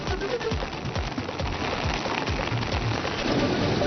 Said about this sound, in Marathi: जळगावच्या बोरनार परिसरामध्ये मुसळधार पाऊस.